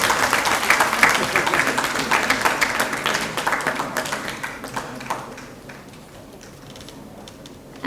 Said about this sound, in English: Please put your hands together for Dr.